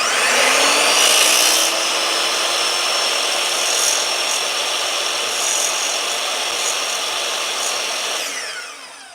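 Power saw cutting a 45-degree bevel along a tile edge during a bathroom and kitchen backsplash install: a loud, steady whining grind held for about eight seconds, then spinning down at the end, with no talking.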